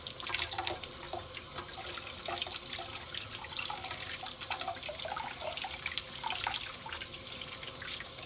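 Tap water runs steadily into a kitchen sink while eggs are peeled under the stream, a constant close splashing with small clicks and taps throughout, no talking.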